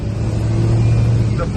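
A Cummins diesel engine in a crew cab truck runs at around 2,000 RPM with a loud, steady low rumble up close, while someone talks over it.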